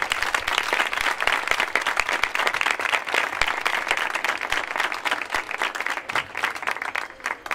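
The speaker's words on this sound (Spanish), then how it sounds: "Un aplauso para todos ellos" A crowd at a PSOE local-election campaign rally in May 2023 gives loud, sustained applause, a thick, crackling burst of many hands clapping close by that holds steady throughout.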